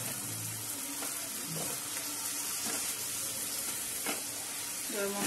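Spice paste fries in a pan with a little water and sugar for Bengali five-lentil panchratna dal, giving a steady, soft sizzle broken by occasional scraping stirs and light clinks.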